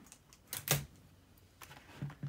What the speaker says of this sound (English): And you remove your keyboard that way.